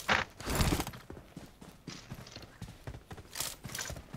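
Hooves of a galloping horse in a video game clatter in a quick, uneven clip-clop rhythm, close and fairly quiet.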